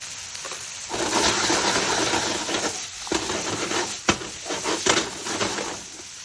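Potatoes frying in a pan, a continuous close sizzle that swells and dips, with sharper pops and a brief clatter of stirring partway through.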